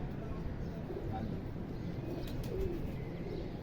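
Soft pigeon coos sound faintly over a steady outdoor background hum, a few brief calls scattered across the stretch.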